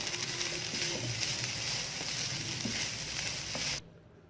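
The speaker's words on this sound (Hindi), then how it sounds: "ये सब चीज़ें ऐड करके इसे अच्छी तरह मिक्स कर लें।" Keema sizzles steadily in a frying pan as it is stirred with salt, crushed red chilli and red chilli powder, a dense close frying hiss that stops abruptly near the end.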